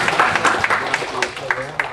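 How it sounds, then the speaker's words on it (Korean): A church congregation applauds with steady scattered clapping, mixed with voices throughout the short burst. "하나님 영광의 박수"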